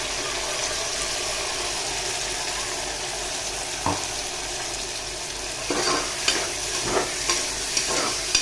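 Ground masala paste is stirred into browned onions and potatoes sizzling in a pressure cooker pot for chicken biryani, giving a steady frying hiss with a spoon clack and, later, several scraping stirs, close up and without talking.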